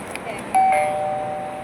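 A wireless doorbell gives a single bright electronic chime tone that rings on and slowly fades, close and clear, in a second-hand Japanese goods warehouse, with faint background noise before it.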